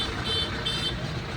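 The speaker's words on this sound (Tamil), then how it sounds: "எவ்வளோ டிராஃபிக் பாருங்கள்." Heavy highway traffic near Bommasandra on the road to Hosur, a dense continuous roar of engines with a high steady horn toot layered over it, loud and close throughout.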